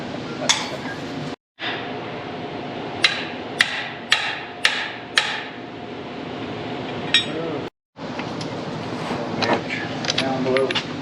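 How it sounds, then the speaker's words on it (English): Sharp metallic hammer strikes on tractor parts, about half a dozen distinct clanks spaced a second or so apart, fairly close, with people talking and rustling in a workshop between the blows. "We got Larry and a hammer."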